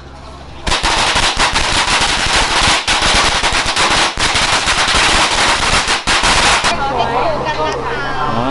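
A long string of firecrackers lit outdoors at a Thai lottery-luck gathering goes off in a dense, loud, rapid crackle of bangs for about six seconds, then stops, leaving a quieter background.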